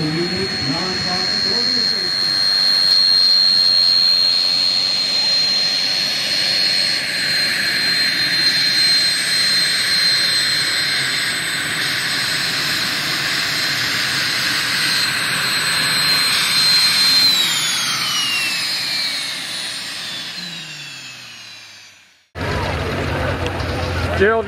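Propeller airplane on short final landing on runway 16R at Van Nuys airport, a loud steady engine drone with hiss passing close for about twenty seconds before cutting off sharply, with a voice briefly heard afterward.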